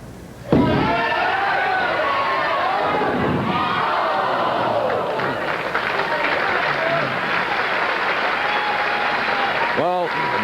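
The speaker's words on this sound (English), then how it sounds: "I can hear them all cheering." Bowling crowd at the 1986 Greater Los Angeles Open cheering and applauding, a loud sustained roar of clapping and shouts that rises abruptly and carries on throughout.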